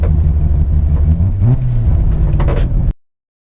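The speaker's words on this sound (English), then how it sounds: "Shot out like a cannon, that little RX7." A 700 hp street-driven Mazda RX7 Series 3 drag car launches down the strip with a loud, deep engine roar that rises briefly in pitch before cutting off abruptly.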